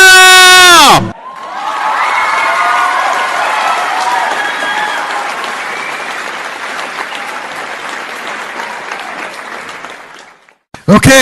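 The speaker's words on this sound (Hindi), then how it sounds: "please put your hands together" An audience at a live comedy show bursts into applause and cheering as the comedian steps on stage, a dense, loud wave of clapping and whoops that gradually fades. A voice speaks briefly before it begins.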